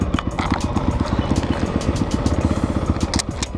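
A 2017 Honda CRF 450 dirt bike at Aztec Raceway idles close by after a kick start, its single-cylinder engine thumping in a rapid, even rhythm with a clattery mechanical edge.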